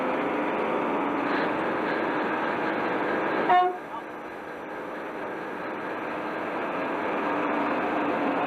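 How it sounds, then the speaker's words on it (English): A 1990s diesel locomotive leaves a locomotive shed, its steady rumbling engine and rolling noise continuous throughout, with a short horn toot partway through. "Diesel locomotive from 90s coming out of Locoshed."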